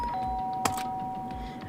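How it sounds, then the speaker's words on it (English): A doorbell rings once in the Danganronpa video game, a sustained electronic chime tone with a brief bright strike near the middle over a low background hum. "pressed the doorbell"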